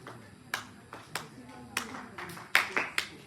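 Hands clap out a clave rhythm from a song in a school workshop: sharp, fairly faint claps in an uneven syncopated pattern, about eight strikes over a quiet room.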